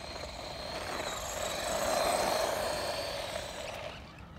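A DeeRc 16889 1/16-scale 4WD RC truck's electric motor at near full throttle, a steady high whine that swells and peaks midway before easing off, heard outdoors at night with no talking.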